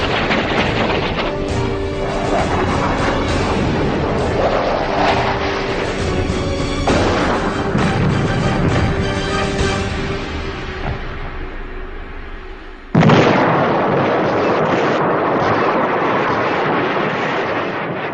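Heavy aerial bombing by B-52 bombers during the Vietnam War, a dense continuous roar of explosions and rumble with crashing bursts, a brief drop near the end and then a sudden loud blast that carries on.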